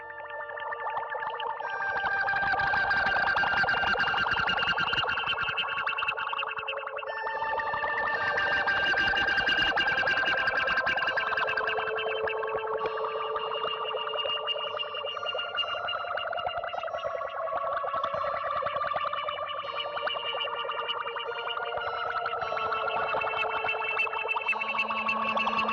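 Electric guitar played through a pedalboard of effects, giving a continuous wash of heavily processed tone with chorus-like shimmer, distortion and echo, sustained and swelling over about twenty-five seconds with no talking.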